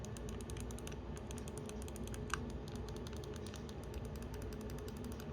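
Back buttons on a Hex Gaming Phantom PS5 controller being pressed, producing a rapid series of small, crisp clicks close by over a constant background hum.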